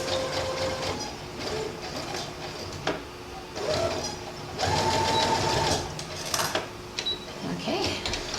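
A sewing machine stitches a fabric panel skirt in several loud, steady whirring bursts, separated by short pauses and faint handling noises.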